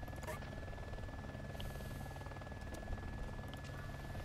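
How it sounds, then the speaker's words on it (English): A helicopter in the video game City Life RPG 2 gives off a steady low rotor drone throughout, a constant hum in the background with a few faint clicks over it. "Don't tell me it's a helicopter."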